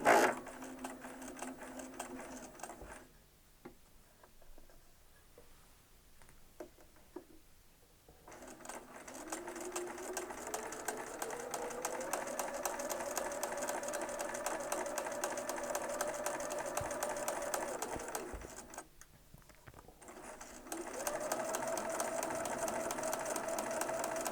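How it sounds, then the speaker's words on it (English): A sewing machine runs long steady stitching bursts along two fabric seams with a quarter-inch foot, pausing briefly between runs, close and clear with no talk. "we're ready to stitch these 2 seams on the machine"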